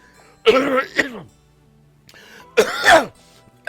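Two separate throat clearings, each a short rough rasp, close and fairly loud, with a quiet pause between them.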